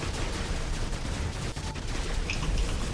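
Dense, continuous robot weapon fire from the War Robots mech game, with the Fenrir robot in play: a steady, loud barrage of overlapping shots with no pause for three seconds.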